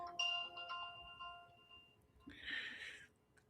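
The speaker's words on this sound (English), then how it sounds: "sorry, the phone going off." A phone ringtone chimes faintly in the background, a few tonal notes followed by a brighter burst, quiet and somewhat distant.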